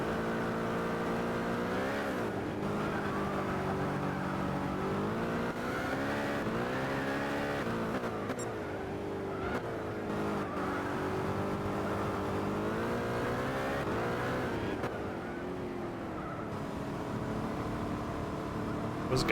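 A race car engine in Gran Turismo 6 revs continuously, its pitch climbing and dropping through gear changes and throttle lifts, loud and unbroken with no voices.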